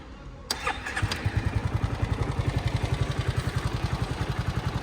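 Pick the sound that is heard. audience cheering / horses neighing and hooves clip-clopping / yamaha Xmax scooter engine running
yamaha Xmax scooter engine running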